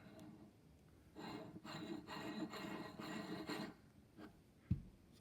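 Rag wiping excess thread locker off a John Deere variator sheave in a workshop, soft rubbing strokes in a rhythmic series, quiet and close, ending with a brief knock.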